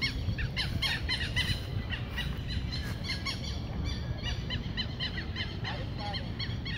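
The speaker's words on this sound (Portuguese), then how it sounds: "Muitos pássaros aqui, ó. Esse é o quero-quero." Southern lapwings calling in a riverside park in Macapá by the Amazon, many sharp, shrill repeated cries overlapping from several birds at moderate distance over a constant low rumble of wind and traffic.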